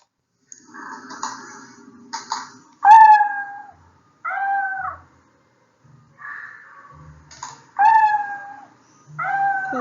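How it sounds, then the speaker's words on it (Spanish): A young kitten gives a series of short, high, plaintive meows with brief pauses between them, some calls louder and rising. The cries come close and clear, with no talk. "Cuando escuchamos este maullido, nosotros inmediatamente nos hacemos a la idea de que es un gatito bebé."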